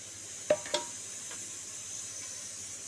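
Gram flour batter being stirred in a pan with soft sizzling, a couple of brief scraping clacks near the start, then low steady hiss.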